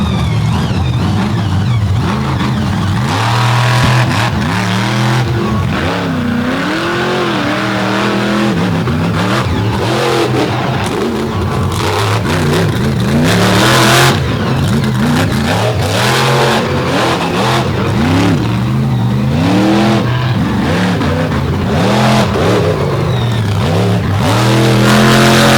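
Race car engine revving hard on a muddy oval at an all-star championship finals, the loud, continuous roar rising and falling in pitch as the car powers through turns.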